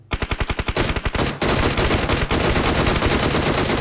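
Automatic gunfire in PUBG Mobile on the Livik map, loud and close: a rapid string of distinct shots gives way to a dense, continuous burst of fire that runs to the end with no voices.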